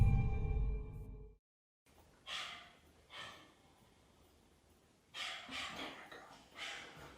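A small dog gives a few faint, breathy yelps and whimpers at night, several separate short bursts after a brief louder noise at the start, distant and quiet with no talking.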